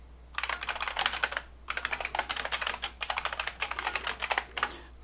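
Close-up keystrokes on a Brother WP-1 word processor keyboard come in quick rattling bursts, with two brief pauses between runs of typing.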